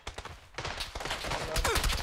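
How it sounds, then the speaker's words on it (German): Gunfire in the battle-royale video game PUBG, a rapid fusillade of shots crackling through busy, mid-level game sound, fairly distant rather than close. "ich krieg Schüsse, ich krieg Schüsse"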